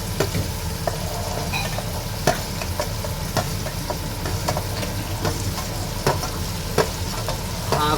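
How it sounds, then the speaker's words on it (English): Finely chopped onions and chilies frying for chana, a dense continuous sizzle with a low rumble beneath and periodic sharp stirring scrapes, close and loud throughout. "Now we must put the onions, which are cut very small."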